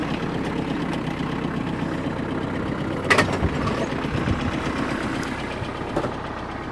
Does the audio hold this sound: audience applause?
no